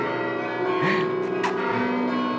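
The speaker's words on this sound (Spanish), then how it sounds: "Es que con las campanas" Church bells ring steadily in the background, a dense layered tone of sustained ringing with a brief soft voice sound partway through.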